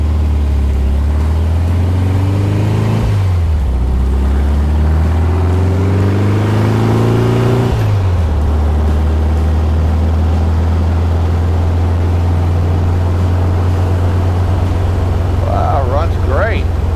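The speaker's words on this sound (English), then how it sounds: "Well, take the Dune Buggy for a ride." A 1966 VW dune buggy engine driving, loud and close, with rising and falling engine revs through gear changes before settling into a steady drone.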